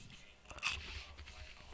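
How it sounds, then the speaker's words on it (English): Quiet crunching and chewing of a shawarma right at the mouth, a few moist bites and scrapes, close and soft with no talking. "I'm just eating a shawarma."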